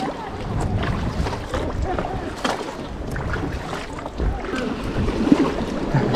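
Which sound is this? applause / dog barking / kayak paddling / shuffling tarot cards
kayak paddling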